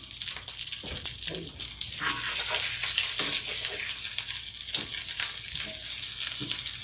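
Potato pierogi browning in a frying pan, making a steady sizzle with intermittent clatter and scraping from handling the pan.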